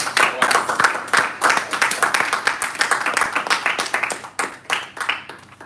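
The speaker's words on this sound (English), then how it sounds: "We should give a round of applause to everyone." Audience at a Toastmasters club meeting in a Lagos hotel breaks into lively clapping, many hands close by keeping up a brisk, uneven patter that fades slightly toward the end.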